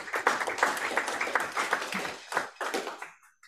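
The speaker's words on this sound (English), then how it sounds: "Can you please give each other, yourselves, a round of applause" Students of a jazz ensemble applauding one another in a room, a short burst of clapping from a small group that thins out and fades to a few last claps.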